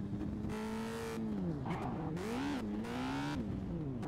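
A motorcycle engine in the game Gangstar Vegas revs up and down several times, its pitch rising and falling through gear-like sweeps, loud and close with no voices over it.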